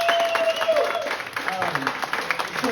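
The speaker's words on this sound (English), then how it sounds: "But give me a round of applause, please" A bar crowd at the Kodiak Bar in Roseburg, Oregon claps and cheers for a performer, a dense wash of clapping with shouts and voices throughout.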